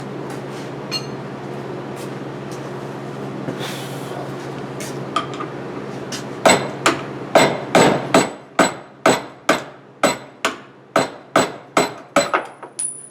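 Repeated metal hammer blows ring out in a steady rhythm, about fifteen sharp strikes following a stretch of quieter workshop rustling, as work is done on Triumph TR7 suspension parts.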